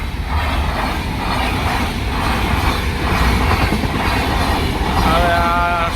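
A passenger train with AC coaches rushes past nearby in farmland, a loud, continuous rumbling roar with faint wheel clatter that stays steady throughout and swells slightly near the end.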